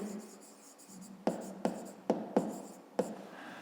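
A hand writes numbers on paper during a fifth-grade maths lesson, five distinct scratchy pen strokes arriving in a loose sequence after a quiet opening, close and fairly soft.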